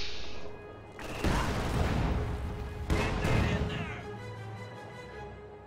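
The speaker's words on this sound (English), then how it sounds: "keeps walking into Maxims and just hurling rifle grenades into buildings, which just don't really do anything" In a World War II strategy game match, rifle grenades explode in buildings: two heavy booming blasts about two seconds apart, each trailing into rumbling debris, over steady background game noise.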